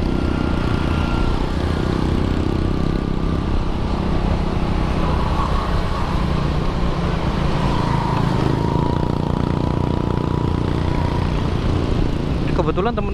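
Several small motorcycles ride together in a group on a morning independence-day ride near Gresik, giving a steady, loud engine drone throughout that stays constant with no pauses.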